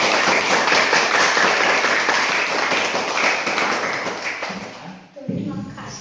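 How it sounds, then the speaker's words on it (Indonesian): A classroom group claps loudly and continuously for several seconds for a presenting group of students, then the clapping fades out and a voice begins at the end. "Silakan berikan tepuk tangan buat kelompok 2."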